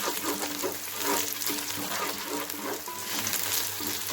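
Onions fry in oil with bay leaves, a cinnamon stick and black cardamom for a pulao, giving a dense, continuous close sizzle with light bubbling and occasional stirring, no voices over it.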